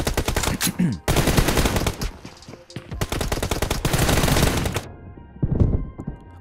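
Automatic gunfire from the mobile battle-royale game PUBG Mobile, rapid loud bursts of shots in several long volleys separated by brief gaps, with little else heard.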